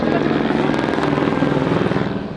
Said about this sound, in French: Je crois que je me balade en hélicoptère!